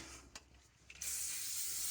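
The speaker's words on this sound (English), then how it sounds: "Maybe I'll just spray that a little bit" Hair spray hisses in a steady burst onto a hair system, starting after a moment of quiet rustling and running on evenly to the end.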